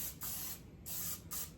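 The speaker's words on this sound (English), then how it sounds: "Okay, so I'm just going to use some spray oil" Three short hissing bursts of cooking oil spray onto a pan, close and distinct, separated by brief pauses.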